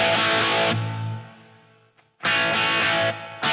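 Thin, weak-sounding distorted electric guitar through the bridge pickup of a Gibson SG: a buzzy strummed chord rings and fades, a brief pause, then loud chords crash back in, lacking low-end body.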